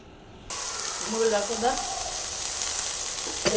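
Dried shrimp and chilies hit hot oil with a sudden loud sizzle that keeps frying steadily and close, with a brief stirring scrape near the end and faint voices underneath.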